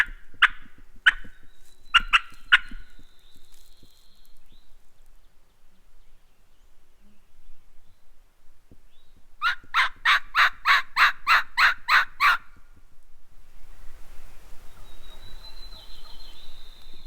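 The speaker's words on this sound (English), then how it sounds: "I'm hearing a hen somewhere." Wild turkey hen yelping in big woods, a few scattered calls early followed by a clear rhythmic run of about ten loud, evenly spaced yelps, then quiet forest with faint bird sounds.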